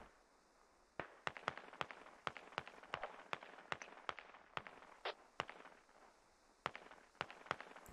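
Distant gunfire in the tactical shooter Squad: a string of sharp, spaced single shots cracking out over a quiet outdoor backdrop, irregular in rhythm, with no talk.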